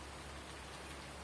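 Steady rain falls outdoors on a soggy day at a farm, a constant dense patter of drops on surfaces, faint and uniform throughout with nothing else standing out.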